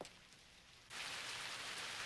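Cartoon rain falling in a Tagalog-dubbed animated series, a steady hiss of rain on a surface that swells suddenly louder partway through and keeps pouring, with no voices.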